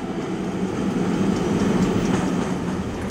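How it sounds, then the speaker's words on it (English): Glenbrook Vintage Railway tour train on a North Island tour, a steady rumbling roll of railway carriages with faint clickety-clack, continuous and fairly loud nearby, with no talking. "this train behind us is going all around the North Island"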